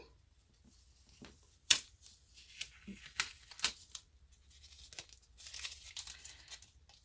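Painter's tape being torn and handled while stamping cards, heard as dry tearing and crinkling noises in sharp, irregular bursts close by, with no talking.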